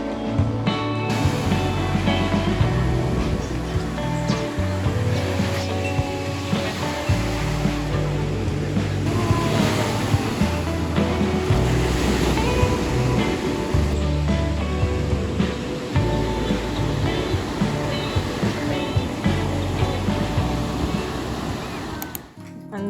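Ocean surf rolling onto a beach in Busan at night, a steady, loud wash of breaking waves with a low rumble that continues without pause throughout, with no voices heard.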